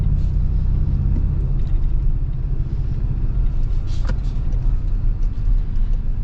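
A 2026 Toyota Tacoma TRD Pro or Trailhunter with its four-cylinder engine pulls hard from a start, a steady low rumble and road drone heard from inside the cab, loud and unbroken, with no talk.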